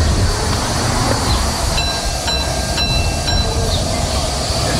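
A miniature railway train on the Romney, Hythe and Dymchurch Railway rumbles steadily through New Romney station, loud and close, with a few sharp squeals and clicks of wheels on the rails.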